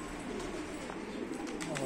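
Wild pigeons and pet pigeons cooing together while landing to feed on grain and water, soft repeated coos over a steady outdoor background.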